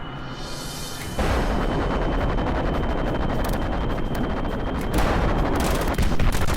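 Lasers firing in the Kerbal Space Program game with the BD Armory mod, a loud continuous buzzing roar that starts abruptly and holds steady for several seconds, swelling near the end.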